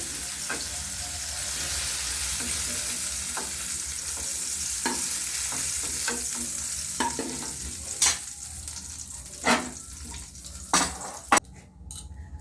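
Paneer cubes frying in hot oil for chilli paneer, a dense steady sizzle filling the clip, then a few sharp utensil clinks and scrapes against the pan toward the end as the sizzle drops away.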